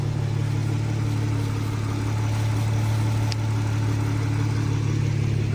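BMW 440i with B58 engine and Active Autowerke downpipe exhaust idling steadily while warming up, a low, even rumble with a constant hum, close and unchanging, no talking.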